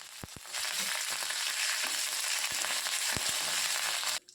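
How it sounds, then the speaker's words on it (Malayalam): Dried red chilies broken in two and curry leaves hit hot oil, giving a loud continuous sizzle and crackle with a few sharp pops at the start, ending abruptly. "3 ഉണക്കമുളക് 2ആയിട്ട് നുറുക്കിയതും കുറച്ച് കറിവേപ്പിലയും കൂടിയിട്ട് മൂപ്പിക്കുക."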